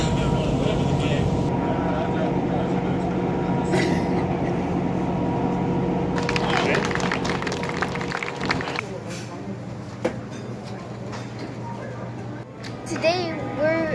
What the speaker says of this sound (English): They decided to warm up the train right behind us.